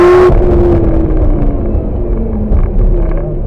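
Lamborghini engine powering along a track during a driving experience, a loud continuous rumbling drone with a steady low pitch that eases slightly as the throttle is managed, heard alone without talk.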